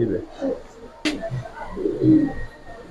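Racer pigeons coo in low, throaty murmurs that come and go across the moment, with a sharp click or clap partway through and some nearby voices mixed in.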